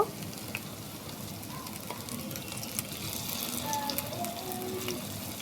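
Lentil and prawn fritters fry in a frying pan with a steady, dense sizzle throughout, faint crackles and pops scattered over a continuous hiss, with no voices.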